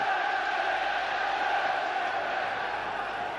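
Football stadium crowd at a 1996 Champions League match between Manchester United and Fenerbahçe, early in the second half, a steady broad roar of many voices sustained throughout at constant loudness.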